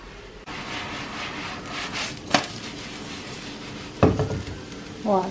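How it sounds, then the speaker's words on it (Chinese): A jianbing pancake frying in a pan, with a soft steady sizzle beneath several sharp scraping and clattering knocks from a utensil, plus a brief voice near the end. "好了，煎你的饼子。"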